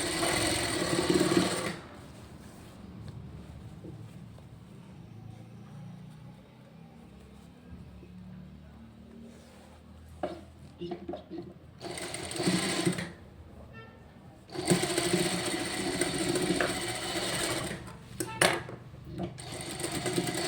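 A sewing machine runs in short bursts as it stitches a blouse in a home tailoring setup, with quiet pauses between runs of rapid, close mechanical whirring.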